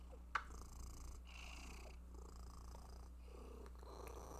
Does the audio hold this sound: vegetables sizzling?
no